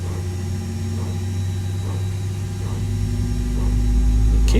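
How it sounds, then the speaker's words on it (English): Steady mechanical engine hum from an Airbus A320neo's jet engines starting in the X-Plane flight simulator, low droning tones and a faint rhythmic whine, growing louder and deeper toward the end as the engines spool up. "Both engines successfully started"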